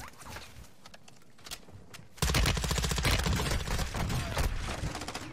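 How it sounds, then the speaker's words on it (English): Dense automatic gunfire in Warzone 2.0 on Ashika Island, a quieter stretch of scattered shots giving way to a sustained loud burst of rapid rounds that runs to the end. "We're getting shot from the other direction?"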